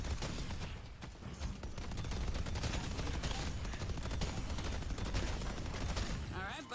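A turret firing in the video game Deadlock, a steady, dense stream of rapid automatic gunfire that runs without a break through the whole stretch.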